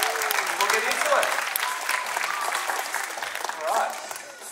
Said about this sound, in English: a big round of applause for Adira and Kai